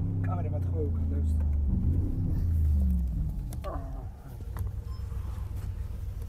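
A Brabus GT900 Rocket idles with a low, steady rumble close by, running under voices that talk over it, with a brief dip before the rumble resumes.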